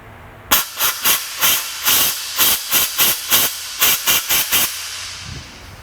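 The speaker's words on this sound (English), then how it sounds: "Half tempted to just blow it out with some compressed air just to be sure." Compressed air blows out a car part in a shop: about a dozen short, loud, hissing bursts in quick irregular succession, then quiet.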